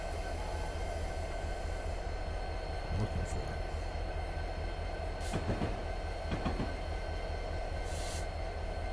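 Steady low rumble of a moving train in Train Sim 2017 with rhythmic rail clatter, heard under occasional speech and a few brief clicks.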